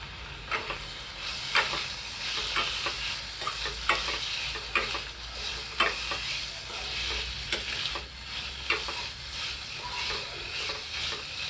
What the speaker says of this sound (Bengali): এখন কুচো চিংড়ি ভাজাটা দিয়ে দিচ্ছি